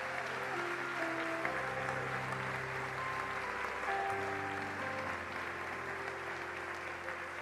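A church congregation applauds in a steady, sustained wash of clapping that stays even for several seconds, while held organ or keyboard tones sound underneath.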